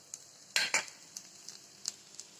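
Leftover chapati crisping in a hot pan, with a brief burst of scraping and sizzle near the start followed by scattered light clicks and taps of a spatula against the pan, close and fairly quiet.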